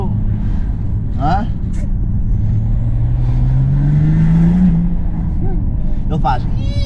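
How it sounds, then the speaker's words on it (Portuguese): A tuned BMW diesel engine, a 535d or 320d with stage 2 modifications and an exhaust manifold leak, revs up and settles in a steady low rumble, with people talking over it. "tens uma fuga no coletor de escape"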